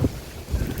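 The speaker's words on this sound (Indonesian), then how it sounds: "Anginnya kenceng." Strong wind from a storm in Jeddah roars and buffets the microphone in a dense, steady low rush with gusty swells, no voices over it.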